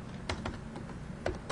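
Keys on a computer keyboard tapped in a few quick, close, soft clicks, separated by short pauses in an otherwise quiet room.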